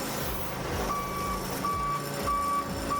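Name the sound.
UTV Achiever RT-02 digger derrick warning beeper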